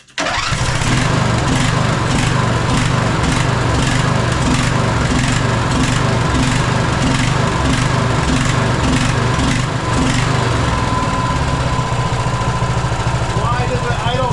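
A 1998 Craftsman LT1000 riding mower engine idling after a valve adjustment, a loud steady chugging putter with even rhythmic pulses that continues unbroken, then someone speaks briefly near the end.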